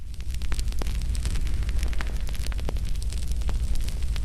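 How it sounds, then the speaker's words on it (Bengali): A campfire burns at a riverside camp on Char Kukri Mukri island at night, a steady low roar with scattered sharp crackles and pops throughout, close and fairly loud. "আমরা ক্যাম্প ফায়ার জ্বালাইছি,"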